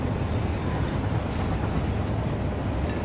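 A steady rumbling roar of a passing train in the Trainworld game's desert dune biome, continuous and fairly loud with faint rattling over the low drone, with no speech.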